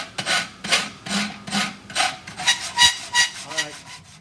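A half-round file rasps across aluminum in steady back-and-forth strokes, about eight close, scratchy passes with no voices.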